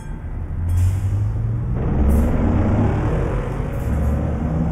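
A train rolls past in Euro Truck Simulator 2 with the ProMods map in France or Spain, giving a loud, close, steady rumble with hissing bursts that holds for several seconds without any talk.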